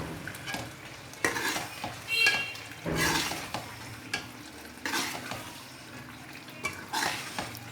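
Potato and eggplant curry with fresh coriander being stirred in a pan, a steady soft sizzle with repeated scraping and clinking of a spoon against the metal, close and without talk.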